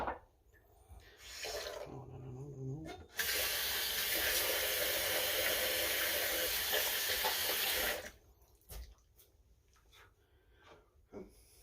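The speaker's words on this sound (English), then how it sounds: "A nice little first layer of water going on here." Running water from a tap streams steadily onto a shaving brush and soap for about five seconds, close and hissing, with quieter handling noises before and after.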